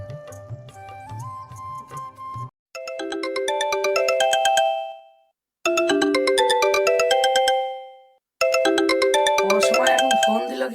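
A mobile phone ringtone plays loud and close in repeated melodic bursts separated by short gaps, starting with a different tune before cycling through the main ring pattern.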